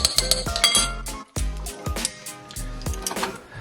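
Metal spoon clinks and scrapes against a dish while chimichurri sauce is mixed, with rapid, irregular close taps and knocks and a brief pause in the middle.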